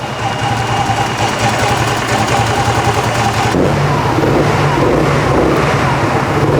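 A Kuba Chia 125 scooter engine runs close by, a steady mid-pitched hum that shifts to a slightly different tone partway through, with no speech over it.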